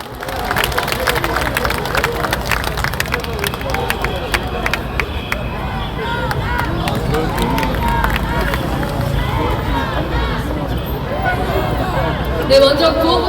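A crowd at a Korean opposition rally claps to welcome the next speaker. Scattered hand claps and crowd murmur run beneath a loudspeaker voice that keeps talking throughout.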